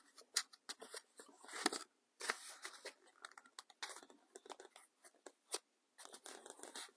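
A plastic loyalty card is run along folded book pages in a paper Christmas tree craft, making a close, quiet series of crisp rustles, scrapes and papery crackles in uneven bursts.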